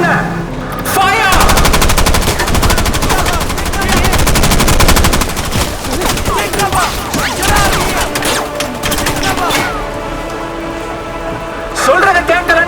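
Dense machine-gun fire from a film scene rattles in rapid continuous bursts, loud and close, thinning toward the end with a few scattered shots and other effects mixed in.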